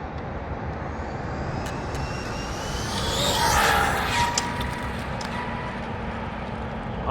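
An Arrma Infraction 6S RC car makes a half-throttle pass down a street lane, its high electric whine swelling as it approaches and fades as it passes, moderately faint against steady broadband background noise.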